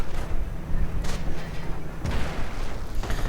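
Gunfire and artillery in a WWII real-time strategy game battle, with Hotchkiss tanks firing: dense continuous rumbling of shots and booms, with sharper cracks near the one-, two- and three-second marks, steady and loud.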